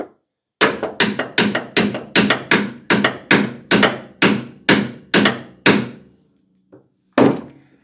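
Hammer blows on a stuck, rusted torsion bar, about a dozen sharp metallic strikes in a steady rhythm, close and loud, each ringing briefly before the next, ending with a pause and one final hit.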